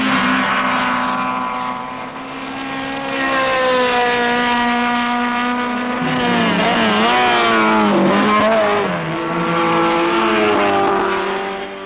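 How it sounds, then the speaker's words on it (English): Racing saloon cars from 1968 on a British circuit, a works car with fuel injection and an 8-port head dicing with a carburettor privateer, engines droning loud and close with rising and falling pitch as they pass. "this was a terrific dice in this race. Neil in the works car, 116, and Peter Legg, a privateer, 124, with his lights on, coming along the outside"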